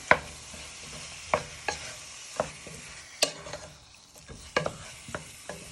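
Steak and kidney pieces sizzle in a hot pan while a utensil scrapes and stirs them, with sharp clinks and scrapes spaced every second or so over a steady background fry, close and fairly quiet.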